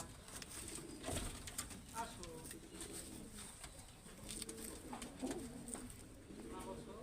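Pakistani high-flyer pigeons coo softly in repeated low throaty phrases, close by and fairly quiet, with someone talking over them at times.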